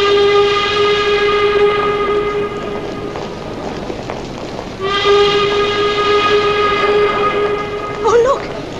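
Train in a 1950s British film scene on the Southend line, with a long steady horn or whistle tone sounding twice, separated by rumbling carriage noise, and a brief rising squeal near the end.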